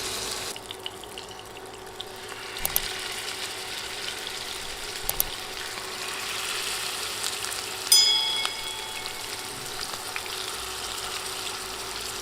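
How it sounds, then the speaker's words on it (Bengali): Fish pieces frying in very hot oil on a high flame, a steady broadband sizzle and crackle running throughout with a few sharper pops and clinks along the way, and no voices. "তেল ভালোভাবে গরম হলে মাছের পিসগুলো দিয়ে দিচ্ছি।"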